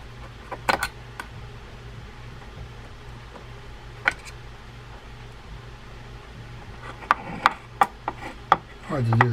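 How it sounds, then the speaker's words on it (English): A screwdriver drives a small screw into a 1960s True Temper Lagoon 130 round bait-casting fishing reel, giving faint ratcheting clicks and metallic ticks, sparse early then clustering near the end, close and quiet. "let's reinsert the screw to tie this assembly down"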